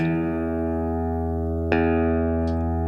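A low sustained note with rich harmonics holds steady throughout, with a sharp percussive click partway through and a faint tick near the end.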